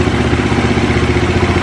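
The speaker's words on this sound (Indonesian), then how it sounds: "motornya udah hidup" A motorcycle engine idles loud and close in a steady, slightly clattering rhythm. It runs alone with no voices.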